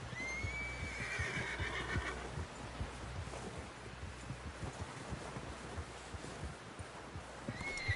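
A horse in the video game Red Dead Redemption 2 whinnies loudly at the start and again at the end, over a steady wash of wind and the soft thud of hooves.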